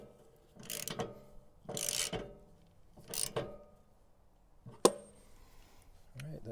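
A socket wrench with a 1 1/16 socket reinstalls an RV rod into its threaded spot, giving three bursts of ratcheting, then a sharp clack and a short final burst, close and moderately loud.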